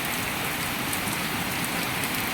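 Steady rain falls outdoors on a rainy day, a dense, even hiss of drops on surfaces, continuous and moderately loud with no voices.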